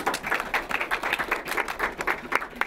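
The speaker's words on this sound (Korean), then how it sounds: "박수 한번." Applause from a small audience at a Hyundai Mobis open house, a steady patter of hand claps lasting the whole stretch at moderate volume.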